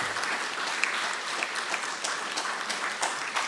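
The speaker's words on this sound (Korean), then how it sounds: "우리 받으실 때 박수로 그렇게 환영해 주시기 바랍니다." A church congregation applauds during an Easter Sunday service, a steady, moderately distant patter of many hands clapping throughout with no voices standing out.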